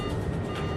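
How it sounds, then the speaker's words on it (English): Cockpit traffic collision avoidance alert aboard an airliner cruising at 36,000 feet over Switzerland, a steady electronic tone sounding continuously and loudly for under a second with no voices. "TCAS, sounds an alert."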